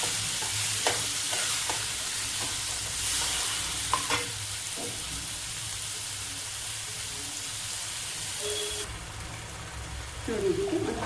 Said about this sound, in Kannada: ಸ್ವಲ್ಪ ಆಯಿಲಲ್ಲೇ ಫ್ರೈ ಮಾಡ್ಕೊಳ್ಳೋಣ.